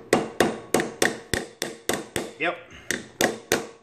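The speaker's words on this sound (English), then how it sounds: "Tap it with your hammer one time." Hammer tapping to seat a main seal on a Grasshopper mower, a steady run of sharp metallic taps a few per second, close by, with a brief spoken word partway through.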